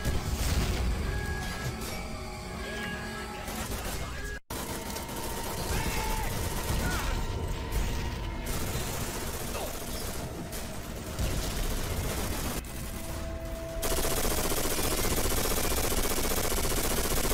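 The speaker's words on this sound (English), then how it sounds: "Germans are taking fire from German guns up on that ridge." Gunfire in Call of Duty: Finest Hour, a World War II shooter: steady bursts and volleys of rifle and machine-gun fire roll on throughout, loud and dense, with battlefield noise and a brief dropout partway through.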